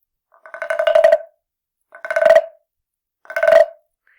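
Wooden frog guiro instrument scraped with a stick, giving three separate rasping croaks, each about half a second long with short pauses between. The croaks are close and clear against silence, resembling a bullfrog.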